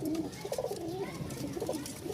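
Rajshahi Giribaj and fancy pigeons coo steadily in a loft, overlapping throaty calls rising and falling close by with no pause, a soft rustle beneath.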